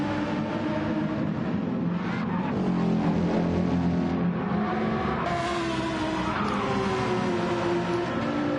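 Porsche and Lamborghini race cars circle Laguna Seca in a sim racing game, engines droning and revving steadily throughout with shifting pitch as they chase through corners, no talk over them.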